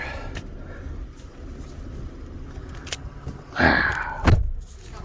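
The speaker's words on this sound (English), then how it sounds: "Just close the door." A Nissan Frontier Pro-4X truck door thuds shut nearby, followed by a second sharp knock, over a low idling rumble and faint clicks.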